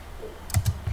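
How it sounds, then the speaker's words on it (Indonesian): A few quick keystrokes on a computer keyboard, close and fairly soft, in a short burst with no voice. "Nah, di sini kita ketikkan"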